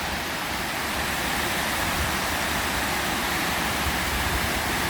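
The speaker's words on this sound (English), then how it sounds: "The water pours down there" Steady, dense rush of water pouring down a waterfall in a park, loud and constant throughout with no breaks and no voices.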